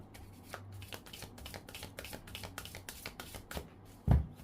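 Tarot cards shuffled by hand in a quick, steady run of crisp riffling flicks, close and alone, ending with a louder soft thump as the deck is squared.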